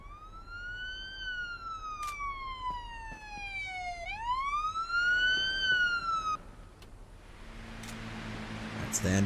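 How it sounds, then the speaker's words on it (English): A video-game ambulance siren wails in rising and falling sweeps, steady and fairly clear, with a brief vehicle rumble near the end and no talk over it. "Alright, so we've got our ambulance going here."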